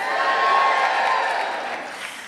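A live audience at an evening talk event on being single cheers and whoops loudly, a brief dense burst of crowd noise that slowly tapers off.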